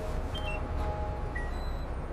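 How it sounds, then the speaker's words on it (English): A contactless card tapped on a bus fare reader gives short electronic beeps, thin tones over a steady low engine rumble and cabin noise. "I tap my card."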